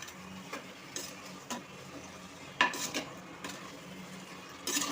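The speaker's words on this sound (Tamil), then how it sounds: "தக்காளி நல்லா வதங்கட்டும்." Tomatoes sauté in a village-style clay pot with a soft, low sizzle, punctuated by several quiet scrapes and taps of a spoon stirring against the earthenware.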